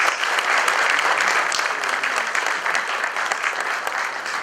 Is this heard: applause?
yes